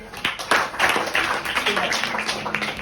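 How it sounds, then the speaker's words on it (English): A sixth-grade maths class clapping together in a school classroom, a burst of quick claps building and then thinning into scattered patter, fairly close, with a voice briefly heard near the end. "Clapping कीजिए"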